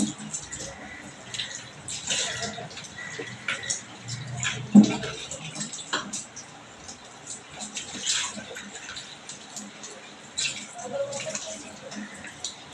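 Cut potatoes are rinsed with water in a home kitchen, giving soft intermittent splashing, sloshing and dripping with small clinks, fairly quiet and close throughout.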